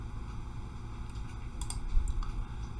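Mouse clicks on a computer, several sharp dry ticks spread across a steady low background hum, close and fairly faint, with no voices.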